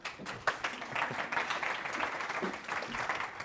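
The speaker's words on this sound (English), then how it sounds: "Thanks for the prompt on the clapping." Conference audience applauding as a speaker takes the stage at a public sector summit, a full room of clapping held at a steady moderate level, with a voice faintly underneath.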